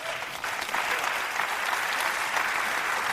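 An audience bursts into sustained applause after a speech at a talk event, a dense, even roar of many clapping hands that holds steady and fairly loud for the whole stretch.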